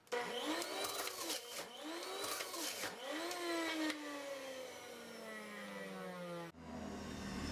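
An electric juicer whirs loudly as it processes blood oranges and whole peppers with seeds and tops, the motor pitch dipping and rising with each load before winding down and starting again.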